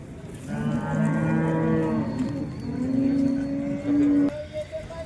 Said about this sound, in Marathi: इथे एक आपली गाय आहे शिंग गाय आहे